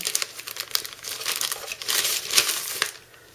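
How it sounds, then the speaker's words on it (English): Packing tape is peeled open on the cardboard package of an Icy Dock MB559U3S-1S slim hard drive enclosure, giving close, soft crinkling and tearing sounds over a few seconds with no voices. "opening up the tape there, the manual"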